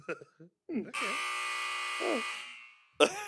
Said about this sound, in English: you can press the buzzer button